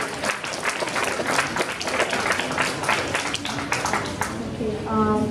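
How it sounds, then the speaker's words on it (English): Audience applause at a college of health commencement ceremony, a steady wash of many hands clapping that fades near the end as a tonal voice or music begins. "Serge Jeudi, please give him a big applause."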